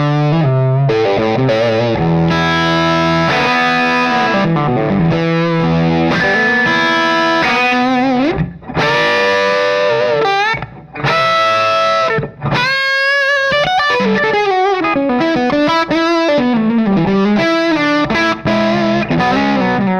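A Les Paul electric guitar plays loud and sustained through a cranked Jackson Ampworks Newcastle amp, with thick overdriven tone and melodic lead lines that ring out alone with no talking.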